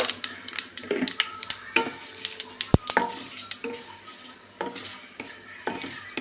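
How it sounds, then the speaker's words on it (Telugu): Mustard seeds, chillies and curry leaves tempering in oil in a kadai for idli chutney, with sharp metal spoon clinks and scraping over a light sizzle, close and irregular. "అదే కళాయిలో కవ్వ ఆవాలు రెండు మిర్చి వేసుకున్నాను రెండు కరివేపాకులు వేసాను"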